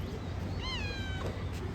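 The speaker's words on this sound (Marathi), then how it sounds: "रावेतमधलं मांजर आहे" A cat outdoors in Rawet gives a single clear, rising-and-falling meow, faint against low background noise, with no talking during the call.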